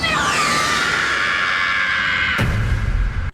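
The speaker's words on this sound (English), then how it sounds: "That amazing scream from Luffy's voice actress" A voice actress voices the One Piece anime character Luffy in a long, sustained, piercing scream that holds steady and loud for over two seconds before cutting off into background sound.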